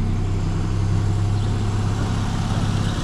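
A Mitsubishi Lancer engine runs at a steady idle with its belt removed, a close, continuous low hum and rumble with no talking.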